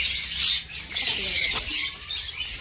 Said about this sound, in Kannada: ನೋಡಿ ಕೆಳಗಡೆ ಪಕ್ಷಿಗಳೆಲ್ಲ